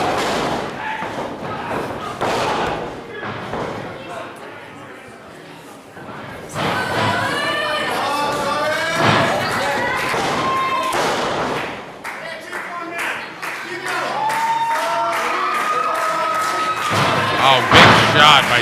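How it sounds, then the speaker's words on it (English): Repeated punches land in a pro wrestling ring match, a string of sharp thuds and slaps over a loud crowd and commentary, with bursts of impacts clustered through the middle and end. "DynaMike just pounding away on the face of Tommy Kobryn"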